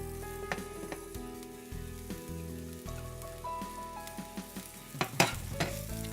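Oil sizzling in a pan as chard cooks, a faint, steady crackling hiss with scattered sharper pops and a louder burst of spattering near the end.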